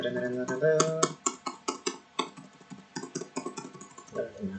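Computer keyboard typing during network router and switch configuration, a quick run of close, crisp key clicks ending in a firmer keypress, with a voice speaking around the keystrokes.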